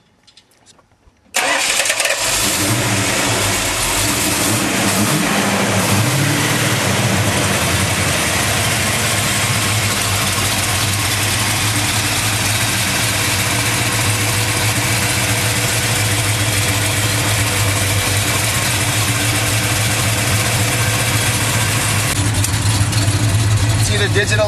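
A restored 1966 Plymouth Satellite V8 rated at 460 horsepower, with a redone fuel pump, fires up close by after a brief quiet moment, then keeps running with a loud, steady, rumbling idle to the end.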